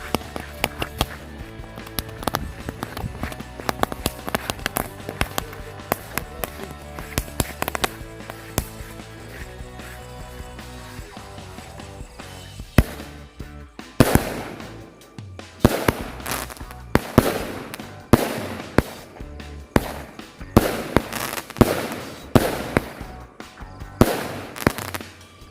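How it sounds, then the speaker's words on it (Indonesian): Rapid bursts of New Year firecrackers crackle continuously, then give way to louder, spaced booms and crackling fireworks explosions, close and sharp, with no talking. "itu dia hasilnya dari mercon lovely"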